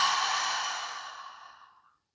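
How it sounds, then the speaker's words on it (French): A long, breathy exhale through the mouth during an evening yoga breathing exercise, close and clear, starting strong and fading gradually to silence over about two seconds. "Et on expire par la bouche."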